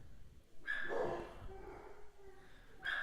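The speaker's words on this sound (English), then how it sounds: "Excuse the dogs." Several dogs barking and yipping indoors, a burst of loud close barks followed by quieter whimpering, with another bark starting at the end.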